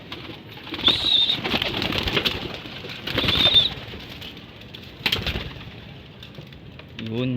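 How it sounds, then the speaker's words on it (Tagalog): Pet racing pigeons cooing softly at close range, with a few louder bursts that may be wing flaps among the birds. "Yun mga kalapatids, may ibon natin."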